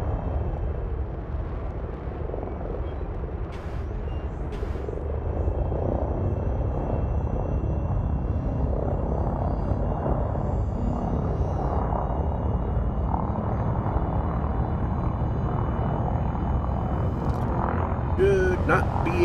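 A spaceship in Elite Dangerous accelerates with a deep, steady rumbling engine drone that swells slightly and holds, close and continuous, with faint beeps on top.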